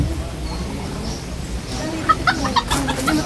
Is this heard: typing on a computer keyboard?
no